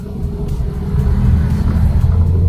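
Engine of a manual car rumbling steadily and rising slightly as the gas is touched while reversing slowly out of a garage onto a narrow road, a low continuous drone close by with no talk.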